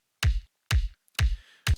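Processed kick drum sample played four times, each a punchy, booming low thump with a bright click attack and short tail, evenly spaced and dry, with nothing else audible.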